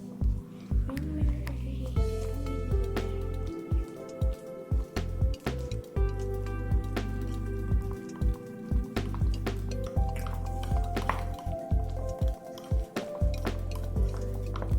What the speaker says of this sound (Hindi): तनी तनी मिल्क डालते डालते मिक्स करते रहो